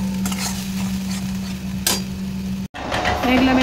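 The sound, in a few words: spice mix frying with tomato sauce in a pan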